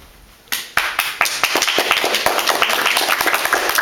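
Applause for a child's bow after a little-mouse story, starting abruptly after a quiet lead-in, with a few distinct claps before settling into steady, fairly close clapping from a small group.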